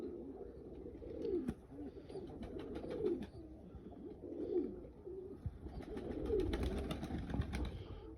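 Pigeons coo repeatedly in low, throaty rolling phrases, several overlapping calls nearby, with rustling and faint ticking noises around them.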